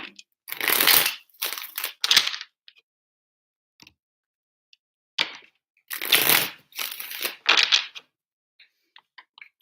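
A deck of tarot cards is shuffled in bursts: one set of riffles, a pause, then more shuffling, crisp and close with quiet gaps between.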